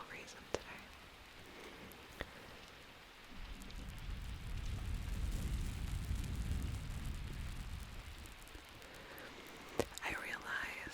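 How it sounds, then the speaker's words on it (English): Soft rain falls steadily as a background bed, swelling in the middle of the stretch, with a few faint clicks and taps over it and no clear speech. "I put some rain sounds in the background as well, because I like rain sounds"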